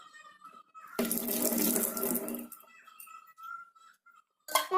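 Tap water gushes loudly for about a second and a half while mutton is washed, then cuts off, leaving a quieter background with a brief splash near the end.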